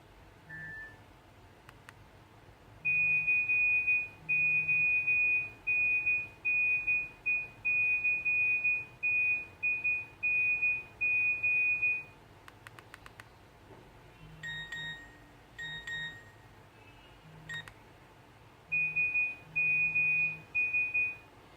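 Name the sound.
Nokia phone message alert tones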